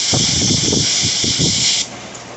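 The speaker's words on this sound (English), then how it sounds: "But I have an air hose." Compressed air from a hose blasts in a loud, steady hiss for nearly two seconds, blowing off the parts of an Echo CS-306 primer bulb, then cuts off abruptly.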